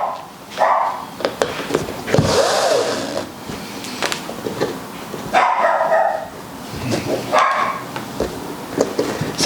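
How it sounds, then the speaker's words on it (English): A pet dog barking indoors in repeated short bursts, fairly close and loud, with scraping and handling noise in between. "Sorry about my dog barking."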